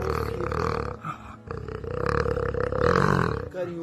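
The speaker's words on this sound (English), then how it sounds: "the jaguar can roar, snarl, growl," A jaguar of the Amazon rainforest gives deep, rough roars and grunts in close, loud bursts with a short pause between calls.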